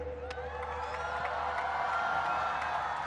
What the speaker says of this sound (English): The crowd once again staying back as a huge cheer goes up for the Pakistan star